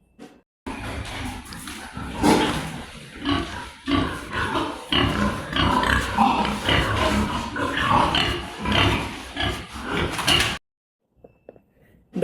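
Pigs on a pig farm during mating, steady grunting and snorting with thumps and clatter from pens, close and busy, then a sudden cut to near silence at the end.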